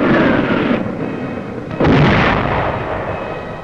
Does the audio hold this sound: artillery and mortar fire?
yes